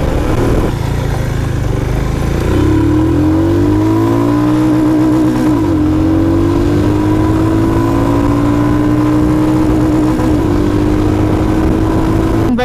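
A Royal Enfield Himalayan BS6 411cc motorcycle on a busy road, its single-cylinder engine loud and close, rising through gears with steady revving and brief drops at shifts, no talk.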